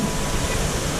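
The Engole waterfall in Trindade, Rio de Janeiro, Brazil, roars as a dense, continuous broadband rush close by, loud and unbroken throughout, with no voices.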